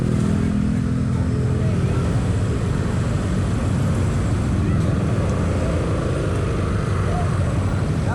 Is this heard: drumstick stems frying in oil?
no